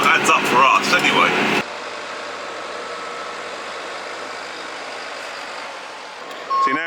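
A tractor consolidating a silage clamp on a farm runs with a low, steady engine drone, and an electronic reversing beep pulses near the start and again briefly at the end, while a person talks over the opening.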